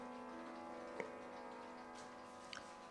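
Antique French-imported wooden-case clock with grape-cluster and wheat carving, giving a few faint, sparse ticks over a steady background hum, with no voices.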